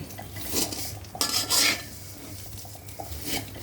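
Vermicelli being fried and stirred in a pan, with metal utensil scrapes and clinks against the pan over a faint sizzle, a couple of louder scraping bursts near the middle, close up and without talk.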